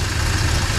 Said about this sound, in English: Been sitting here idling for over 20 minutes